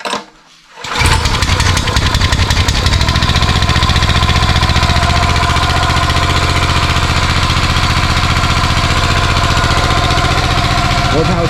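A log splitter's small engine catches after a brief quiet moment, then settles into a smooth, steady idle: a continuous close, loud drone with an even rhythmic chug and no voices.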